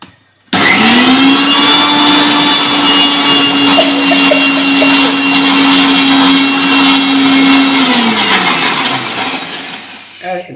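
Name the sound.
mixer grinder grinding Diwali medicine ingredients with water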